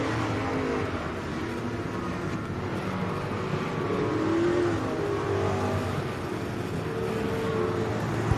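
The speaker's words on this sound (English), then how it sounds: "Crate Racing USA Street Stock Hot Lap qualifying underway." Street stock race cars run qualifying hot laps at a dirt speedway in Georgia, their engines a steady, somewhat distant roar that swells as cars pass.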